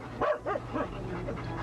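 A dog gives three short, high yipping barks in quick succession, fairly close, over a low steady background of music.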